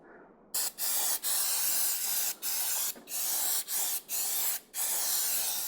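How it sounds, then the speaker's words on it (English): Brake cleaner sprayed into a part while fitting an electric start on a Yamaha YZ250 dirt bike: loud, close aerosol hissing in about seven bursts with brief gaps between them. "We want to use some brake cleaner to really clean the inside of this."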